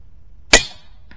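A single sharp, loud pop as an airgun pellet strikes its target, a sudden transient with a short ringing decay, alone against quiet background.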